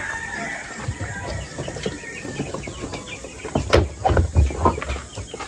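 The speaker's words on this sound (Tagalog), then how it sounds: "Almusal na ang ating sisiw." Young chicks and hens cluck and peep at their morning feeding, with scattered soft calls and a busier burst of clucking near the end.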